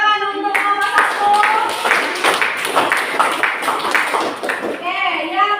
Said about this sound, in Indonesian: beri tepuk tangan untuk nomor 1